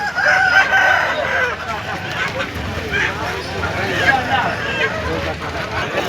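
Roosters crow and hens cluck amid a busy crowd at a Sunday poultry market selling fighting cocks, with people talking over the bird calls throughout.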